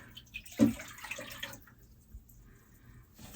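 Liquid briefly pouring and splashing into a container, fairly quiet and close, followed by soft trickling and drips.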